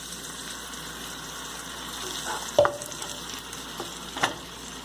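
Tomato puree is stirred into a hot pan for an Italian red pasta sauce, with a faint, low sizzle and a couple of soft spoon scrapes against the pan.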